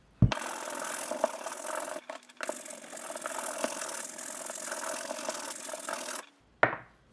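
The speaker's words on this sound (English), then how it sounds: "We're gonna get the soles quick. We're gonna start with our medium bristle brush." Medium-bristle brush scrubbing the soles of Jordan 11 Concord sneakers, a steady close, loud bristly rasp running for about six seconds with a brief pause near two seconds, then a short knock at the end.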